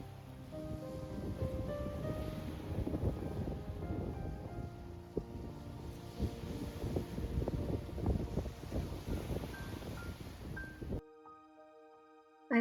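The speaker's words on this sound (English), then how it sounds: "there is something about the sound of the waves that heals my soul" Ocean waves wash onto an Irish beach in summer, a soft, continuous rushing hiss with low rumbling surges and some wind noise, fairly faint throughout before dropping to near silence at the end.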